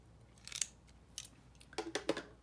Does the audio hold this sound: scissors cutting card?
yes